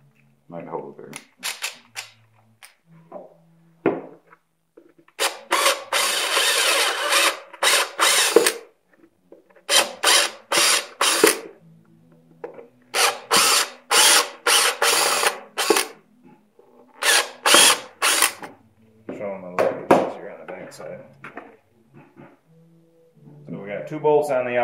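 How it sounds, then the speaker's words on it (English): A power drill with a 1/4 inch bit enlarges a hole in the airbox of a 2016 Yamaha Grizzly Kodiak 700, whirring in repeated bursts of a few seconds each, loud and close, with short pauses between runs and some talking near the end. "1/4 inch drill bit."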